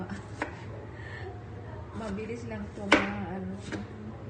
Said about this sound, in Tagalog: Sunod naman is kamatis. Iitan natin to kasi para mabilis lang to